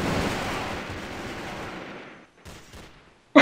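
AK rifle gunfire in Counter-Strike, a dense burst of rapid shots that fades into a decaying tail, followed by a couple of brief faint shots and a sharp loud one at the end.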